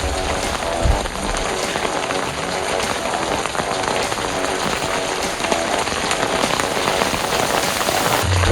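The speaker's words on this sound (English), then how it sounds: "It's still raining." Steady rain falls outdoors, a dense continuous patter of drops on surfaces, fairly loud and unbroken with no voices.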